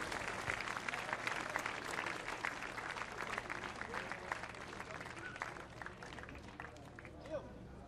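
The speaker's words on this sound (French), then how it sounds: "on les applaudit encore bien fort" Crowd applause at a memorial tribute to a runner who died, with sustained dense clapping mixed with murmuring voices and babble, staying fairly steady before thinning slightly near the end.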